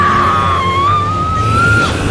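A girl screams in horror as she is dragged beneath a bed, one sustained high wavering cry lasting about two seconds over a low steady rumble, loud and close.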